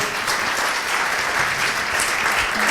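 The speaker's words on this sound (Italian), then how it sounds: "Grazie, un applauso." Audience applausing at a university hall event with a theatre talk, dense steady clapping from a full crowd, loud and close throughout.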